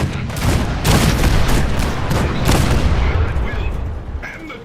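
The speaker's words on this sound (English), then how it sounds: "Two warning shots." Video game gunfire in Fallout 4 Nuka-World, with warning shots ringing out amid booming, rolling blasts and rumbling over a dense, noisy battle backdrop.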